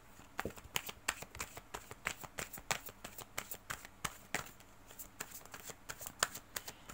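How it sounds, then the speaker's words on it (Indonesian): Tarot cards shuffled by hand up close: quick, crisp riffling snaps and flutters in an uneven rapid rhythm that runs continuously throughout, quiet and without talking. "Oke, kita akan lanjutkan menebar kartu."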